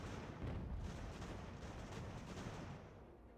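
Distant booming cannon fire in an American Revolution strategy video game rumbles in a dense, continuous barrage, muffled and low, fading slightly toward the end.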